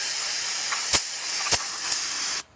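Non-chlorinated brake cleaner sprays from an aerosol can onto a VW engine in a loud, continuous close hiss, interrupted by a few sharp clicks or taps, then cutting off abruptly at the end.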